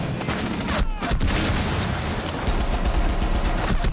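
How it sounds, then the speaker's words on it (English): Loud, sustained blast and crackling burst of gunfire-like booms in Rainbow Six Siege video game, filling the whole few seconds densely with no talking. "Go ready for explosion."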